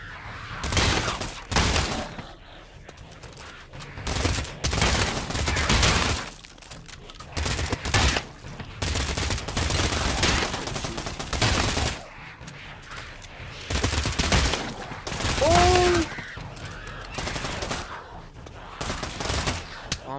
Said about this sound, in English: Oh, I'm sorry, I shot you.